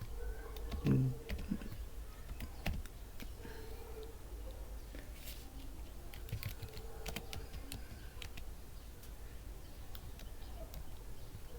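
Keys clatter on a computer keyboard as a command is typed in quick, irregular bursts of light clicks, close but soft over a faint background hum.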